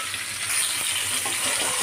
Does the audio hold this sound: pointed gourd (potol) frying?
yes